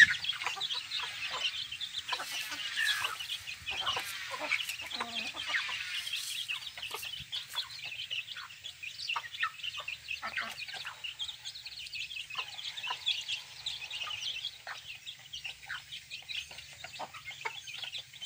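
Bantam chickens cluck and chatter steadily in a farmyard, many overlapping calls close by, with louder bursts early on over a constant low hum.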